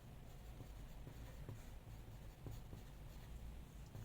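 A pen scratches out labels on a drawn heart diagram, very faint, close scribbling strokes over a low background hum, with no talking.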